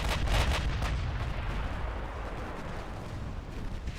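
Warship secondary guns firing at a light cruiser in the naval game Ultimate Admiral Dreadnoughts, with sharp, booming reports cracking rapidly at the start, then a rolling, rumbling din of distant gunfire that continues throughout.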